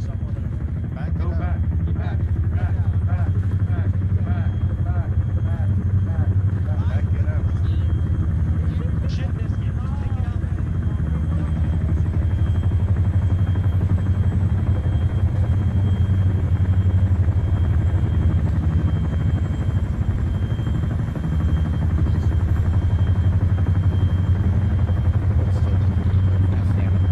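Military helicopter in the Arma 3 game, a steady loud rotor and turbine rumble throughout, with voices talking over it.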